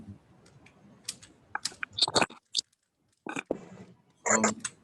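Typing on a computer keyboard during a PowerPoint training session, with irregular bursts of quiet, close clicking keystrokes separated by brief pauses.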